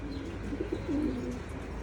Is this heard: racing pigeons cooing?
yes